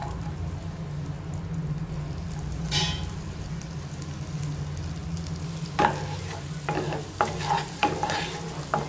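Garlic fries in melted butter in a pan for Bhutanese ema datshi. A low steady sizzle runs throughout, and several sharp spatula scrapes and clinks come near the end, with no talking.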